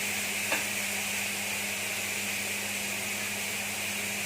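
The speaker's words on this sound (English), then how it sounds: "Let it sizzle nicely." Steady close-up sizzling of a marinated chicken breast on a hot, lightly oiled grill pan, an even hiss over a low background hum with one small tap near the start and no talking.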